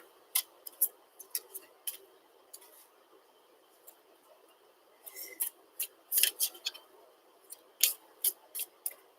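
Soft, quiet clicks and flicks in irregular bursts of tarot cards being shuffled by hand, close up with no talking.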